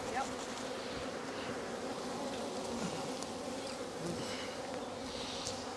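A swarm of honeybees drones in a dense, continuous buzz close at hand, steady and unbroken throughout, with faint outdoor background and no talking.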